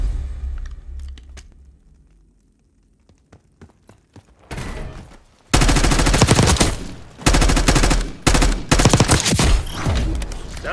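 Gunfire in Call of Duty: Black Ops 6 starts as scattered, quiet single shots, then erupts about halfway through into loud, close sustained automatic bursts with brief pauses.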